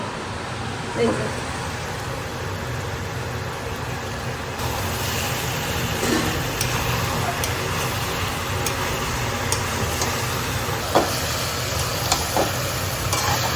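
Sattu frying in a pan with coriander, salt, turmeric and fried potatoes gives a steady close sizzle, with occasional light clicks from stirring throughout.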